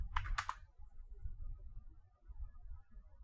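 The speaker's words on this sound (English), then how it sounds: "If I just go ahead and type Microsoft" A computer keyboard typed on in a brief burst of a few quick clicks at the start, then only low room hum.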